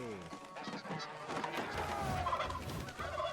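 Geese in the Where Winds Meet video game honk repeatedly over a busy, clamorous background, with loud overlapping calls throughout.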